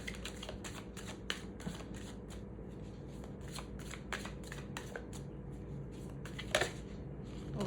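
Tarot cards being shuffled and drawn, a rapid series of crisp riffling snaps and soft flicks up close, continuous and fairly quiet with no talking.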